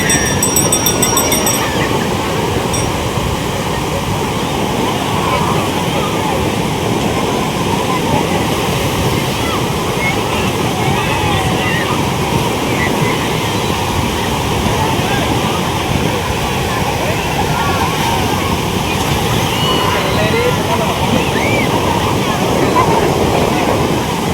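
Sea waves wash onto a beach at Vizag as a steady, loud broadband roar of surf and wind that runs unbroken for the whole stretch, with no clear voices over it.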